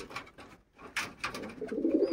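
Racing pigeons in a home loft coo in low, rolling bursts, several overlapping close by, with a burst of wing-flutter or shuffling partway through and the cooing swelling toward the end.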